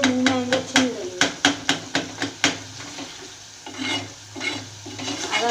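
A spoon stirring cauliflower and beef in a pan, a quick run of sharp knocks against the metal followed by softer scraping and sizzling, close and loud.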